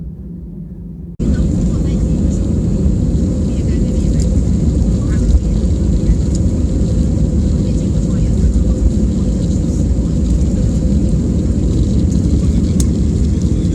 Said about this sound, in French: On arrive sur la piste de décollage.